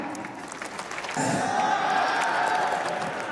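Audience applause at the Euro Cola Ekushey Television CJFB Performance Award 2024 ceremony, a steady wash of clapping from a crowd that swells louder partway through and holds, with faint voices mixed in.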